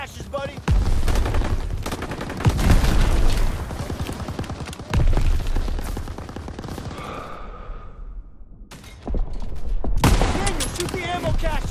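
Gunfire and explosions in the video game Call of Duty: WWII, dense volleys of shots and heavy booms, a brief lull, then another loud burst, with voices between.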